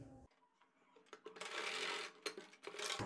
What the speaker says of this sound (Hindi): ये हमने अपनी सिलाई लगा दी है